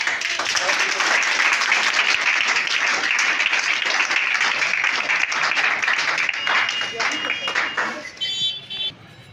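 Loud, sustained applause from a crowd at a student award ceremony, dense clapping that holds steady before thinning and fading near the end.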